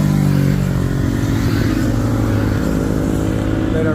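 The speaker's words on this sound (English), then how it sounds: "quite a few bikes coming down these roads," Motorcycles pass on winding hill roads in Southern France, a loud continuous engine drone rising and falling as bikes go by, close and steady throughout with no talk.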